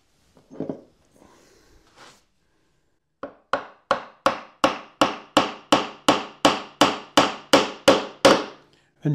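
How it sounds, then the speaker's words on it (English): Brief sounds at first, then a hammer drives a glued wooden peg into a hole in a steady run of about fifteen sharp, evenly spaced blows, loud and close. "you can hear that that is driven all the way home by the sound of the hammer"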